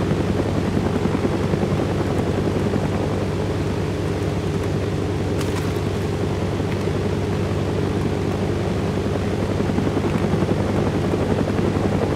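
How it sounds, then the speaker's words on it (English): A helicopter in the video game DayZ flies overhead, its loud steady rotor drone with a low thumping hum running unbroken throughout, with nobody speaking. "Oh my god, there's a helicopter."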